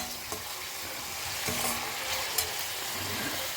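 Onions with a little salt sautéing in a pan for cherry tomato kurma, a steady close sizzle broken by a few scraping stirs, no voices.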